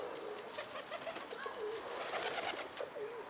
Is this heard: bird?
yes